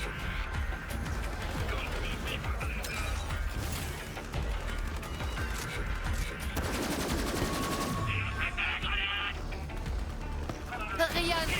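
Rapid machine-gun bursts and clanking weapon mechanisms from the video game Borderlands 3, dense and repeated over game sounds, with players talking over the action.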